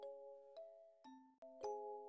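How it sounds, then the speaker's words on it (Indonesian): Doorbell of an apartment door ringing repeatedly, a series of clear two-tone chimes struck one after another with sustained ringing tones, close and alone without speech. "berulang kali membunyikan bel"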